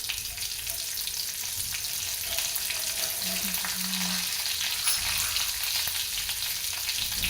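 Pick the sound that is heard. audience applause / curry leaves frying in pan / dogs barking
curry leaves frying in pan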